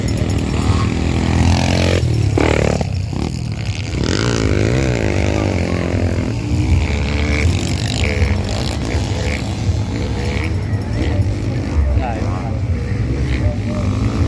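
Beginner-class enduro motocross bikes of about 150cc, such as a Kawasaki KLX 150 and a Rusi 150, race at an invitational competition in Kabankalan City. Loud, close engines whine and rev continuously, rising and falling in pitch, with voices under the din.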